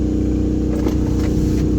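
A Nissan e-NV200 electric van fitted with an HY3200SEI range extender pulls away on the road, a steady low engine drone and whir running throughout.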